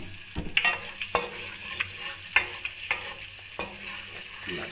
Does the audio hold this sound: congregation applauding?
no